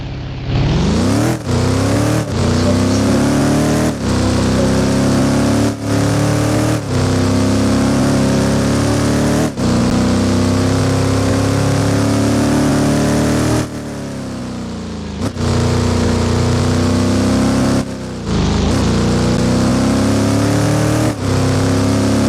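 A loud car engine in the Roblox game ER:LC revs hard and accelerates, pitch climbing and dropping through several gear shifts, continuous and close with no talking.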